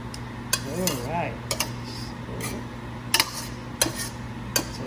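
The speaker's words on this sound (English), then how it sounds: "I stir this vegetable" Vegetables for seafood lumpia are stirred in a pot, giving sharp scattered clinks and knocks of a utensil against metal over a steady low kitchen hum, close by, with brief faint voice sounds in between.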